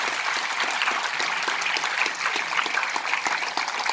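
An audience claps steadily through a talk on the alphabet of life, a dense, even patter of many hands held at a moderate level from start to finish.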